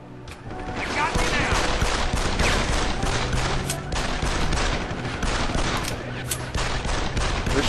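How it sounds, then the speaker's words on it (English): Enemies in Deus Ex: Human Revolution fire guns in sustained, loud rapid bursts, a nearly continuous machine-gun clatter with dense overlapping shots that lasts the whole stretch. "They're shooting at me?"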